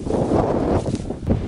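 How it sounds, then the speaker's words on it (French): Strong, relentless wind on Aconcagua mountain buffets the microphone with a continuous loud, rumbling roar and no pauses. "Jamais le vent ne cesse ici."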